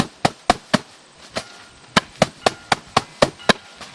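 Wheat stalks being pounded inside a sealed container to thresh the grain, heard as a steady run of about twelve sharp, loud thuds at roughly quarter-second intervals, with one short gap midway.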